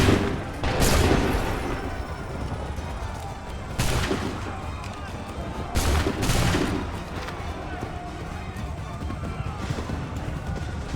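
Musket volleys ring out in Assassin's Creed 3 Remastered, several loud broadband blasts a few seconds apart with crackling battle din and voices between them.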